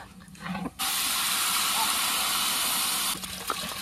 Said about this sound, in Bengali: এখন জল দেওয়া হবে। এই জল দে জল দে জল দে।